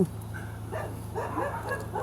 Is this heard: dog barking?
yes